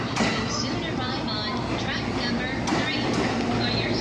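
A Musashino Line train bound for Higashi-Tokorozawa rumbles steadily nearby with clattering wheels and brief squeals, while a voice talks over the rail noise.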